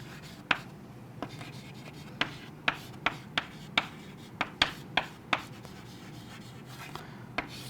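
Chalk or marker tapping and scratching on a classroom board during a biology lesson on vascular bundles, a string of sharp, close taps and short strokes at an uneven rhythm over a faint room hum, with no talking.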